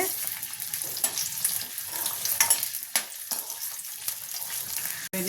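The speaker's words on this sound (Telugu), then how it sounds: "ములక్కాయ ముక్కలు ఫ్రై చేసుకున్నా" Drumstick pieces fry in about three spoons of hot oil, giving a continuous close hiss and crackle with small bursts of spitting throughout.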